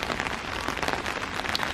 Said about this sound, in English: I am just enjoying the pitter-patter of the rain and watching it